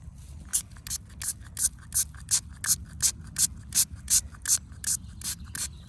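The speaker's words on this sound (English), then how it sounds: "Good old spritzing." A hand spray bottle spritzes water onto a freshly found Roman coin with a steady run of about fourteen short, hissing pumps, close and fairly loud, with no talking.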